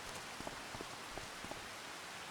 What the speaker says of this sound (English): And it looks like it's raining out.